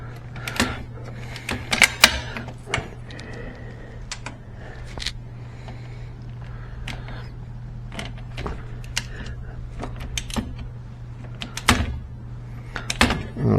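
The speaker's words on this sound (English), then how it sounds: "I know this probably isn't interesting watching me swing a wrench" Wrench being swung to torque a mount, with scattered sharp metallic clicks and knocks over a steady low hum, irregular and fairly close, no talking.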